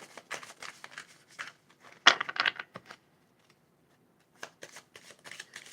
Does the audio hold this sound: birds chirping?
no